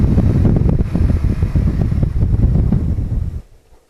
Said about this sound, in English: So that's some pretty hard braking there